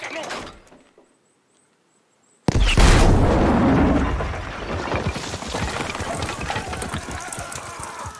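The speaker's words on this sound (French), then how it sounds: "On va utiliser ce canon!" Cannon firing in the video game Battlefield V: after a brief quiet gap, one loud, deep blast bursts out and rolls into a long, rumbling roar of battle noise.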